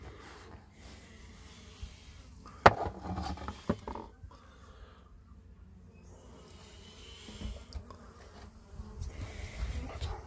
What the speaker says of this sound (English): Good to hear them buzzing around.